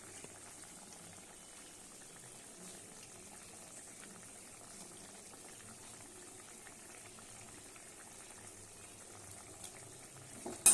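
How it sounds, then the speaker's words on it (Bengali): A pot of Bengali fish curry made with meni fish boils steadily, giving a soft continuous bubbling hiss that stays even and close throughout, with no talking. "আমার মাছের ঝোলটা সুন্দর মতো ফুটে গেছে"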